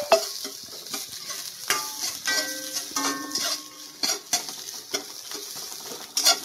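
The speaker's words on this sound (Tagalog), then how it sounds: "So unahin natin prito itong sibuyas." Onions sizzle and crackle in a hot pan while a utensil stirs and scrapes, with occasional clinks of metal against the pan.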